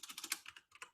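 Quick typing on a computer keyboard, a close, faint run of about a dozen crisp key clicks in an uneven rhythm with one short pause, no voice.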